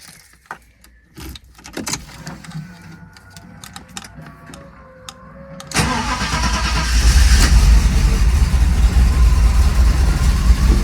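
A Mercedes 500SL R107 with K-Jetronic fuel injection starts up: faint clicks and shuffling, then the starter cranks and the engine catches around six seconds, settling into a loud, steady idle close by.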